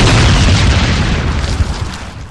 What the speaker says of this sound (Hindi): और एक ब्लास्ट का आवाज़ रीचमार गली में झूम उठता है